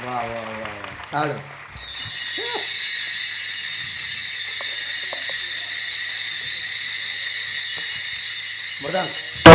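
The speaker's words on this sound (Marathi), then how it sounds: "वा वा वा टाळ." Taal hand cymbals ring at a kirtan, a bright, continuous metallic shimmer that starts suddenly and holds at steady volume, with brief voices at the start and the end.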